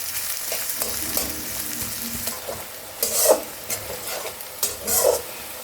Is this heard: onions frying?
yes